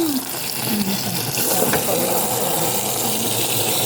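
Tap water gushing steadily into a sink while a bag of mushrooms is rinsed, a loud close splashing rush that keeps going throughout.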